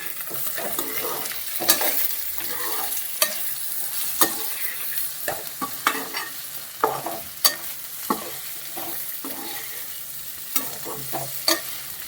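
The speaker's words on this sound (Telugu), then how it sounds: "ఇంకా ఒక నిమిషం వేగాలి. ఇలా వేయించుకోవాలి. బెండకాయలు వేగిపోయినాయి." Okra (lady's finger) fries in a pan and is stirred with a utensil, a soft continuous sizzle punctuated by repeated scraping clinks at an irregular rhythm, close and alone with no talking.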